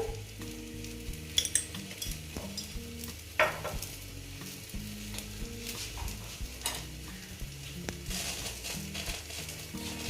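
Oil heating in a wok (kadai) while preparing a spicy bitter gourd and potato dish, giving a steady low sizzle with occasional clinks and scrapes of a utensil against the pan, no voices.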